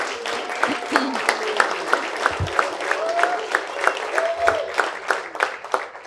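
Applause from the audience at an Arlinghaus University graduation ceremony for staff members, a dense, lively burst of clapping from a large crowd that continues steadily throughout, with scattered voices mixed in.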